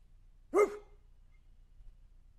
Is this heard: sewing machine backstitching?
no